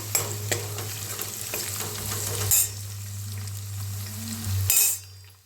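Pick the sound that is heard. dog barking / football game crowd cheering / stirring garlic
stirring garlic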